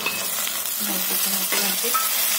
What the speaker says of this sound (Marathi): कांदा झाला आता मी टमाटे टाकते